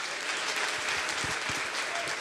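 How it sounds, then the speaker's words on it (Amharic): A church congregation claps together loudly and steadily, dense applause filling the room with a few sharper individual claps standing out. "እስቲ ለጌታ ክብር አጨብጭቡ"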